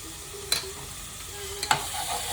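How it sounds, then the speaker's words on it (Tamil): Tomatoes and onions sautéing in a pan for chicken biryani, giving a steady close sizzle with two brief spoon-stirring scrapes. "தக்காளி வெங்காயம் நல்லா வதங்கிட்டு"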